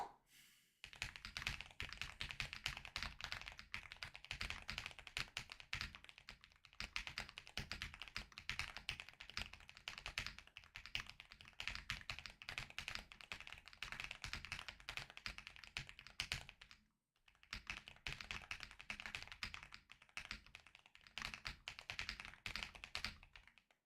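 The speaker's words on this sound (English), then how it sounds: "we're gonna see how annoying it is to type by practicing my typing speed" Fast, continuous tapping on a computer keyboard during a typing speed test, quiet and close, with rapid even keystrokes broken by two brief pauses.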